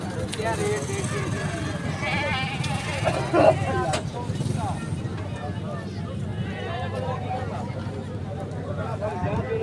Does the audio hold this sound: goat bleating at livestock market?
yes